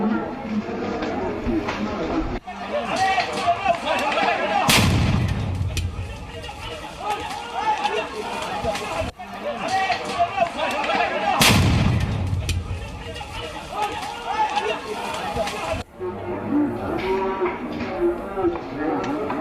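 Bomb blasts during violent clashes in East Midnapore, West Bengal, with two sharp booming explosions standing out over a continuous din of crowd noise and commotion.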